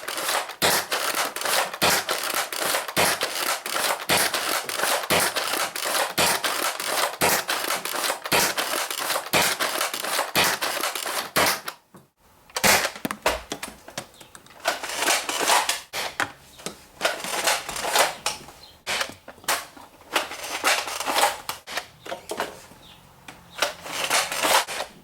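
A Nerf Longshot Stampede blaster with a shotgun priming grip fires in a long series of sharp plastic clacks and thumps, with mechanical rattles and a brief pause partway through.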